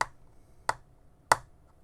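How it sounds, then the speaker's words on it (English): A gemstone cube is set down on a hard surface three times, each contact a sharp, close, distinct click spaced well apart in quiet. "you can hear that clicky sound when you put it down on surfaces"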